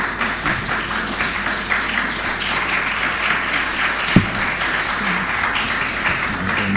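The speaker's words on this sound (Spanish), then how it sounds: "no se anime demasiado con los aplausos" An audience at an education talk in Tenerife claps steadily and densely throughout, a broad sustained applause with one sharp thump partway through.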